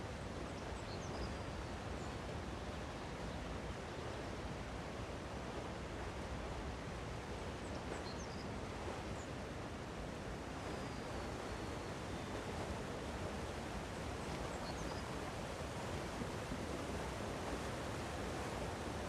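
Rushing coastal waterfalls in The Elder Scrolls Online, in northern Elsweyr near Sunspire: a steady, broad wash of falling water and surf that holds even and fairly loud throughout, with no voices.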